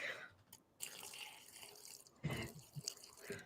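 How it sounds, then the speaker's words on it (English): Filtered water, about six ounces, is poured for a pecan pie filling, a faint trickling splash in short bursts, quiet and close. "about 6 ounces of filtered water"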